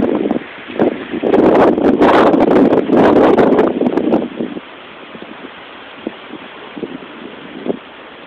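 Strong gusts of high wind across the street from Lake Michigan roar and buffet the microphone for several seconds, then drop to a quieter, steady rush with occasional light knocks.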